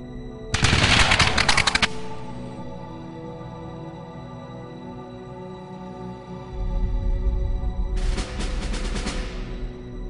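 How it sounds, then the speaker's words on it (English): A firing squad executes mutineers of the Continental Army, with two loud, crackling rifle volleys separated by a pause of several seconds and reverberation lingering after each burst. "This time, the shots find their target."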